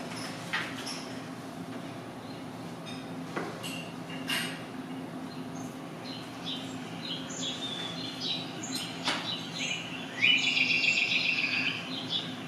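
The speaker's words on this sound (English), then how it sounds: "I'm going to give some background noise of birds" Birds chirping and calling intermittently over a steady outdoor hum, with a denser burst of rapid twittering near the end, moderately faint.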